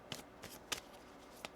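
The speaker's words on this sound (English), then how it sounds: "One more shuffle here." Tarot cards being shuffled in a few separate quick riffles, each a short crisp burst of card flutter with quiet gaps between, close and fairly soft with no talking.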